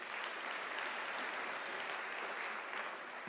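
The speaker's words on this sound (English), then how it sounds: "can we also give a round of applause to our supervisors who have carried the PhD through?" Audience at a University of South Africa graduation ceremony applauds the PhD supervisors, a steady, even wash of many hands clapping that sounds somewhat distant and moderately quiet.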